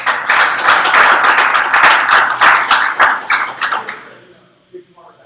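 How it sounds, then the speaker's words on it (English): Meeting attendees at a special board meeting break into dense, loud applause for a man honored by Crime Stoppers, steady for about four seconds before fading out into quiet room noise. "everybody give Jimmy a good round of applause."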